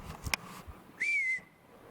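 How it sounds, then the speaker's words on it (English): Two whistles carry through a quiet forest during a Bigfoot search, a brief sharp burst followed by a longer, steadier rising-then-level tone, both sounding distant and faint against the still woods. "I just got really good whistles"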